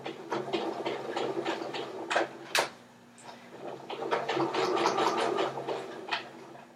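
A sewing machine back stitches a quarter-inch seam on fabric for an elastic waistband casing, running in rapid rhythmic bursts with a short pause midway, close and fairly loud.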